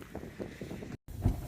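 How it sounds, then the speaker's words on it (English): Gusty wind buffets a microphone outdoors on a cold winter morning during a road trip. Low, rumbling, uneven blasts of buffeting come with a brief dropout, and no speech. "Windy."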